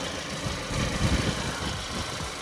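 Kia Sportage engine idling just after starting, a steady low mechanical hum with a faint even rumble and no voices over it.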